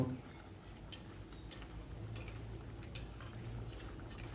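Fish curry with mustard oil being stirred in a pan, giving light scattered metallic clinks and scrapes of a spoon against the pan over a low steady background hum.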